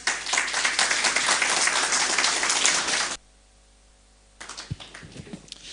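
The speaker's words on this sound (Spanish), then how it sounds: "Vamos a dar una vez más, por favor, fuertes aplausos." A church congregation at a Sunday service gives loud, dense applause for about three seconds, then it stops abruptly into near silence before a few scattered claps and light noises return.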